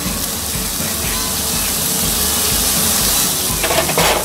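Half an onion dropped into a hot pan for homemade Hamburger Helper, a loud steady sizzle and hiss that rises slightly and sputters toward the end.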